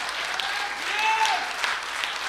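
An audience claps together at a talk, giving a dense, even wash of applause throughout with a faint tone and some voices under it.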